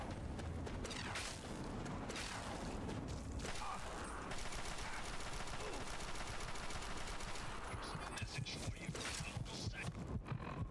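Assault rifle fire in Fallout 3, heavily modded, during a fight with super mutants at a bus: dense, continuous bursts of automatic shots layered with booming impacts and game noise, loud throughout.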